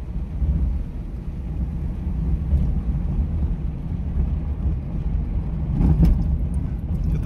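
A car drives along a rough, potholed road, and its suspension and running gear produce a steady low rumble with a brief louder thump near the end. No one is speaking.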